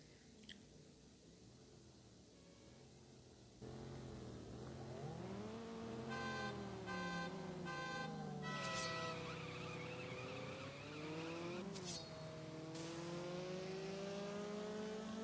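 Audi coupe accelerating in the racing game CSR Classics: a steady engine hum swells into a loud, rising rev that climbs through several gear shifts with brief drops in pitch, alone and without talk.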